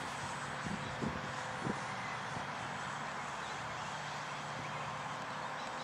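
A model UAV aircraft's engine drones steadily in flight, a continuous hum heard from a distance, with a few faint knocks near the start.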